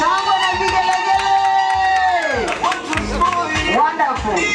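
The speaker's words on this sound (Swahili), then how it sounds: "Shangwe na vigelegele." Wedding guests cheer and ululate loudly, high wavering trills and shouts rising over one another close by, with voices mixed throughout.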